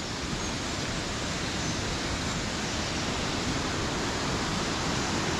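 Waterfall at Harmby rushing down where it drops after passing under a bridge: a steady, loud, broadband roar of falling water with no break, filling the whole clip.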